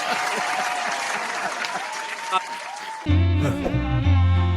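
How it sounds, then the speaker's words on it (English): Steady applause from a crowd fills the first three seconds, then cuts abruptly to loud, thumping music. "Round of applause."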